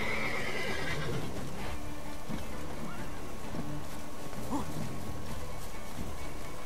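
Roach, the horse in The Witcher 3, neighs once near the start with a high whinny, over steady game background noise and a few faint hoof and ambient sounds.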